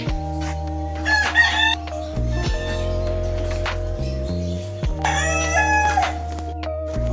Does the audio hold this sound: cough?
no